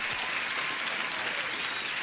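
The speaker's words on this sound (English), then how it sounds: "Let me give you an applause" Canned applause sound effect played during a live futures trading stream: a dense, steady wash of crowd clapping that holds evenly for about two seconds with no voices over it.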